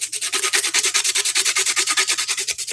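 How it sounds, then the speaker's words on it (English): Coarse 80-grit sandpaper rubs over a hidden area of a 3D-printed part in fast, steady back-and-forth strokes, about nine per second, loud and close with no talking. "So I just come in with 80 grit"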